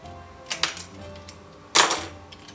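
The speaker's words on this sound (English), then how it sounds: "I am gonna cut off this loop here at the top." Scissors cut through a ribbon loop at the top of a Dollar Tree spring gift, giving a few crisp snips: two quick ones early and a louder one later, close and alone.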